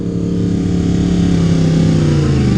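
A Yamaha R1M superbike fitted with a Graves exhaust runs steadily nearby, a loud, continuous engine drone with a rich, rumbling tone and no speech.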